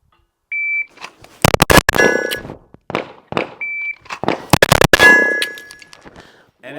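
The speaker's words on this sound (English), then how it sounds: "Trying to shoot a bill drill, running it, and mag falls out." A 2011-style pistol fires in quick bursts of sharp shots during a bill drill, with a steel target's ringing clang after each string and timer beeps, and the magazine drops free mid-string.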